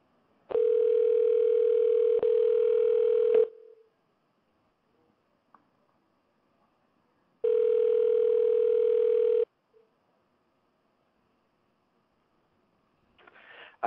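Telephone dial tone after a dropped phone call: two long steady bursts of the tone separated by silence, with a brief faint click between them.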